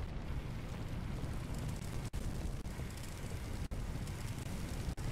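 A large office blaze roars in Firefighting Simulator, a steady, dense broadband rumble of burning computers and furnishings that fills the scene without letup, broken only by a few brief dips.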